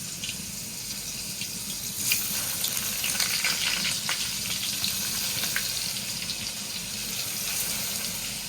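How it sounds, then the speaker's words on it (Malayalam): Continuous crackling sizzle of chicken frying in hot oil, fairly loud and steady throughout, with occasional pops and no voices. "കോഴി പൊരിയുന്നതാ."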